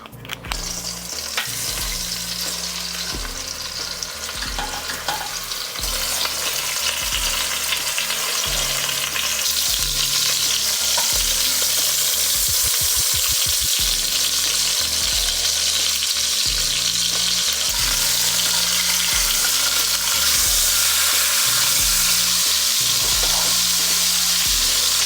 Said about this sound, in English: Let's sear these bad boys in, get some good color on them.